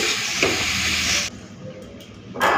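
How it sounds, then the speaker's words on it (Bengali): Food sizzles steadily in a hot pan, a loud hiss that drops away briefly near the middle before returning. "এরপরে একটুখানি ভাজা ভাজা করে নেব।"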